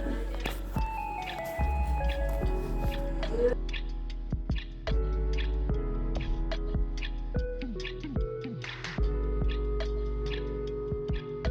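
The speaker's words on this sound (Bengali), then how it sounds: "আমি চালটা খুব ভালোভাবে নেড়ে নেড়ে দুধের মধ্যে মিক্স করে দিচ্ছি" A spoon stirs soaked rice into milk in a pot for caramel kheer, giving soft wet squishes and repeated light ticking scrapes at close range, with no talk.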